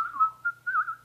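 A person whistling a wavering, tuneful single tone, close and clear, broken into a few short phrases over about a second with no speech.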